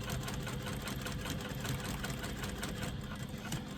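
A sewing machine stitches a 3/4 inch strap for a retro clutch bag, giving a steady, fast mechanical whirr and rapid needle clatter, close and unbroken throughout.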